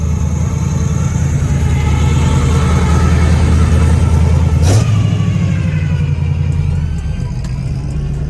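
A Yamaha motorcycle engine at a classic car show runs loud and close with a steady, sustained drone, a brief sharp burst near the middle, and no clear talking.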